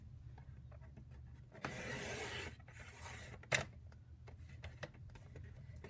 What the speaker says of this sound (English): So what you'll do is you'll first cut this the long way